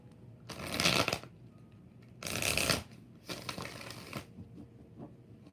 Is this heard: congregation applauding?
no